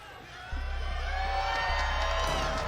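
A live crowd at an esports finals event cheers and whoops, a broad wash of voices that swells after a quiet start and holds steady at moderate distance.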